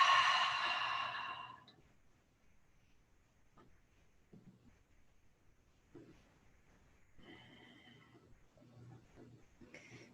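A deep breath drawn in and a slow, audible exhale during a vinyasa yoga session, followed by soft scattered movement sounds in a quiet room.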